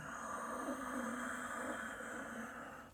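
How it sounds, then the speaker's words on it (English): Ujjayi yogic breath, a long exhale through a constricted throat with the mouth shut, giving a soft, steady hissing rush that fades at the end, close and quiet with no talking. "If you want to add ujjayi breath, victorious breath, more advanced yogic breath, then we grip at the esophagus here."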